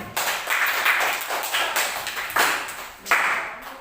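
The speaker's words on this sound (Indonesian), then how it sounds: "Tepuk tangan dulu untuk dia." Classroom clapping for a student breaks out in short uneven bursts of hand claps, a handful of people close by, swelling and dipping several times.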